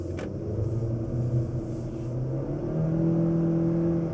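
A 2021 Honda Civic pulls out of a neighborhood under hard acceleration, a moderate engine rumble whose pitch rises steadily over a few seconds with no voices.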